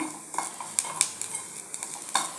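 Dry coconut and masala roast in a pan while a metal spatula stirs them, giving sharp clinks and scrapes in an irregular rhythm over a soft sizzle.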